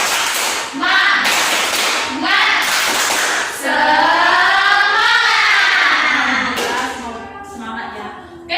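Schoolchildren in a classroom perform the rhythmic 'tepuk semangat' spirit clap, sharp bursts of clapping in a set pattern alternating with loud sung and chanted voices.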